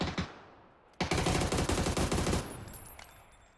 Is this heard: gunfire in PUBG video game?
yes